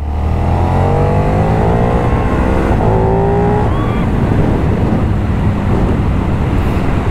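A loud KTM 1390 Super Duke R Evo sport motorcycle engine revs and accelerates close by, pitch climbing in a couple of surges over heavy wind-like roar.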